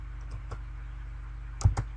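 A few light clicks of someone typing on a computer keyboard to enter a forex pair, two sharper keystrokes near the end, close and quiet with no talking.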